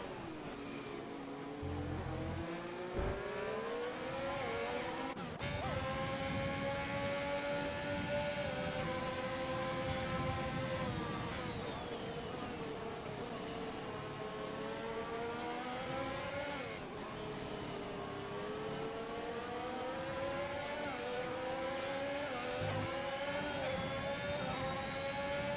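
Formula 1 race cars in the F1 2021 game, a multiplayer race, whine at high pitch as engines climb and shift through gears, several cars layered together in a steady, sustained drone with no talking.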